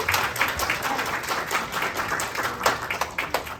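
Audience at an accessibility event applauding: a moderate, steady patter of many clapping hands with a few sharper individual claps standing out, sustained throughout at close-to-mid distance.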